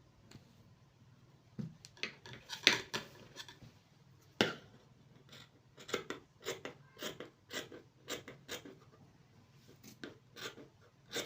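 Scissors cut out a fabric sleeve for a bodycon top, a series of quiet, close crisp snips in irregular bursts with short pauses between them.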